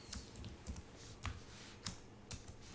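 Keystrokes on a computer keyboard as a command is entered in a Linux terminal: five separate, evenly spaced taps, close and fairly quiet over faint room hiss, with no talking.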